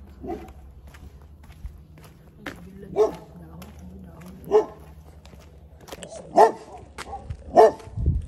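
A large dog barks several times, spaced out and growing a little louder, with footsteps and faint background noise around it.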